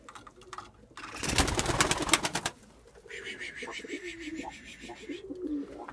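Takla pigeons coo softly inside a coop, close and repeated, with a brief burst of wing flutter and rustling early on.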